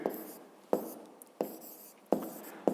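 Pen or chalk writing down an answer, a series of five sharp taps and short scratchy strokes spaced roughly evenly, close and fairly quiet, with no talking.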